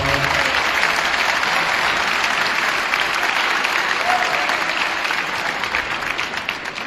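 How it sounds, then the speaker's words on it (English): Dense, steady applause from an audience at a ceremony honoring a coach, honoring a basketball referee's final game, holding at full strength for about seven seconds with a faint cheer partway through. "Can we give him a round of applause?"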